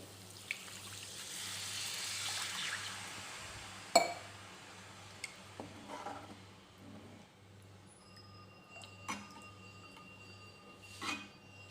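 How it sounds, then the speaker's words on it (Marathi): A glass of water poured into simmering egg masala curry gravy makes a soft, faint splash over a few seconds, followed by quiet clinks and the hum of a kitchen, with no talk. "मी 1 ग्लास पाणी घालते।"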